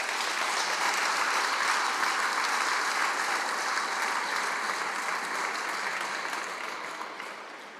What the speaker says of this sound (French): je crois que vous pouvez les applaudir chaleureusement.